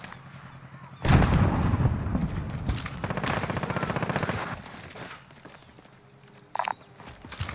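Small-caliber gunfire in a battle royale video game, heard as a loud burst of rapid shots followed by quicker rattling volleys, then fading to quieter background action with one brief sharp crack near the end.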